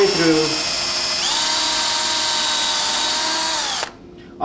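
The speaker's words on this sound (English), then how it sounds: "Then what we'll do is we'll take our drill" A power drill whines steadily at high speed while pre-drilling a hole through a wooden header and leg, its pitch rising briefly, then cuts off abruptly near the end; close and loud.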